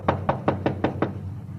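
Six sharp knocks land on a front door in a steady, even rhythm, close and fairly loud, with a low hum underneath and no voices.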